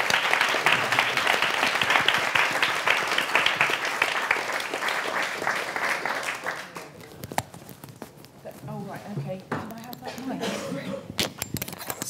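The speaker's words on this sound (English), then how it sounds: "Can we give a round of applause," Audience applause at a feminist internet panel event at Somerset House Studios, a sustained crowd clapping that fills the room and then thins to scattered claps and shuffling as it dies away.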